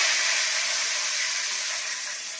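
Bay leaf and spices sizzle in hot oil for tempering, a steady, loud, bright hiss that fades slightly, with no voices.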